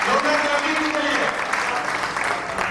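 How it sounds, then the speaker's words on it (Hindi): A live audience claps loudly and densely, close and sustained from start to finish, while a voice speaks over the applause. "अरे वाह, ग्रेट, जोरदार क्लैपिंग के लिए"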